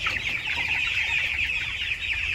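A flock of 45-day-old farm chickens clucks in constant agitated commotion, dense overlapping calls close by and fairly loud, with no talking.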